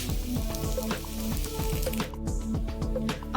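A ragi adai flatbread cooking on a hot pan gives a soft, even sizzle, with rhythmic knocking sounds running underneath throughout.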